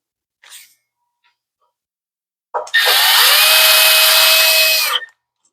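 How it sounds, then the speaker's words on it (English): A power tool drives a screw while an MTD tiller is assembled, a short click and then a loud, close, steady whine lasting about two and a half seconds before stopping. "So let's continue putting screws in."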